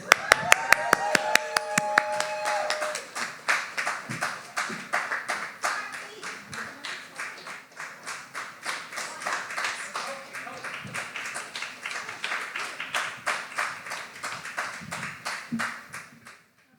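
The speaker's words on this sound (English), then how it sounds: "let's keep that applause going for our next poet coming up" Audience members at the Dayton Poetry Slam give a poet a round of applause: sustained, fairly close clapping with a rhythmic pulse, running under some talking before it fades out.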